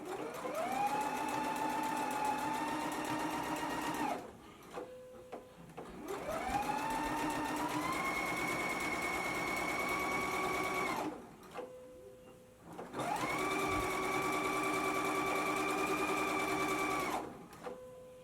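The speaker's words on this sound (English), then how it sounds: "then you want to stitch your hemline in place, leaving an opening to insert your elastic" A sewing machine stitches a dress hemline in three long continuous runs, each several seconds of steady whirring with short pauses between, close and clear with no talk.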